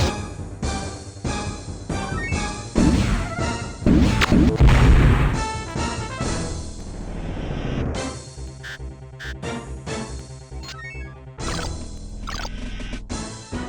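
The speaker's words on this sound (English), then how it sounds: "This crate's about to explode." A crate blowing apart in the space-combat game Wing Commander: Privateer, a dense run of loud crashing booms and metallic smashes that peaks midway, then gives way to sharp cracking bursts over a steady low rumble.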